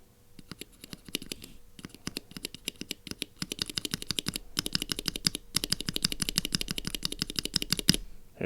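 An unlubricated mechanical keyboard switch pressed over and over, a dense, fast, slightly irregular train of sharp dry clicks, close and clear with no voices.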